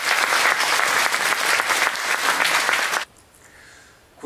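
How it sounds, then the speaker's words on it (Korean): A church congregation gives loud, dense applause in thanks after the sermon, a sustained roar of many hands clapping for about three seconds that cuts off abruptly into near silence. "우리 감사와 영광의 박수 한번 드립니다"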